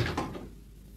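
A door opening as a sound effect in a 1962 children's radio drama, heard as one short, fairly close creak and knock at the start that fades into quiet.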